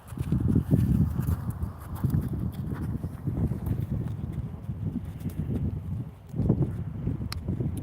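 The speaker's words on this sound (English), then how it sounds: "horsey coming out." A horse walking out on a horse farm, hooves clip-clopping in a steady, fairly close rhythm with light wind noise around it.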